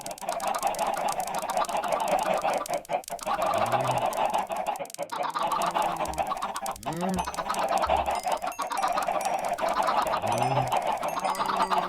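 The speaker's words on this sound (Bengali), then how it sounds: "20 থেকে 30 এত মুরগি আছে" Minecraft chickens cluck over and over in a crowded pen of twenty to thirty birds, with overlapping short clucks throughout against a steady game background.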